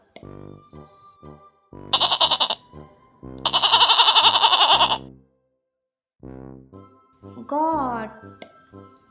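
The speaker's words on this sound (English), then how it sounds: "goat," A goat bleats loudly and close, several long, wavering cries separated by short pauses, with a brief higher vocal sound near the end.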